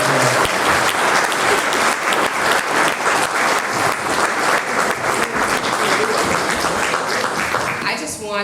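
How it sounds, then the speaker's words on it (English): Dinner audience at an annual public heroes appreciation dinner gives sustained, dense applause for Police Commissioner Danielle Outlaw, loud and steady throughout without a break. "let's raise our glasses and clap for Police Commissioner Danielle"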